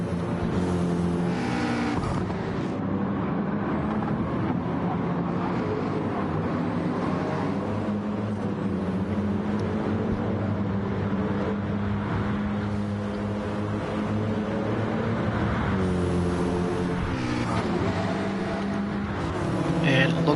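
Racing cars stream past on the track at Fuji in a sim racing video game, a dense, continuous roar of engines overlapping and shifting, with a commentator talking throughout.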